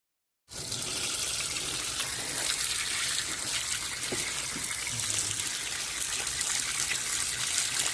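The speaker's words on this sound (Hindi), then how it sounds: "तो पहले शलजम को देखिए खूब बढ़िया सा हम धो ले रहे हैं, इसकी मिट्टी और जड़ वगैरह को निकाल के" Turnips rinsed under a running tap to wash off soil and roots, a steady close gush of water that starts abruptly and continues without pause.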